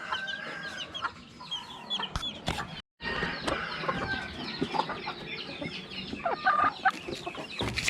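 Hens and chicks cluck and cheep around a backyard poultry feeder, a busy mix of close, overlapping calls with occasional sharper squawks and rustling.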